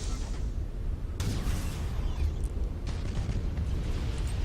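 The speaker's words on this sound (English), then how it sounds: "Almost hit themselves with their own bomb there." A bomb blast in the space strategy game Battlefleet Gothic Armada, heard as a dense, rumbling boom with bursts of crackle over continuous low battle noise, with no voices.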